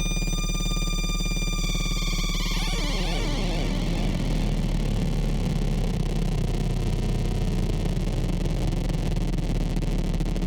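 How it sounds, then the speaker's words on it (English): A synthesizer tone with its envelope turned all the way down sweeps downward and dissolves into a dense, buzzing low drone that holds steady and loud with no voices. "That's what it sounds like when the envelope is all the way down."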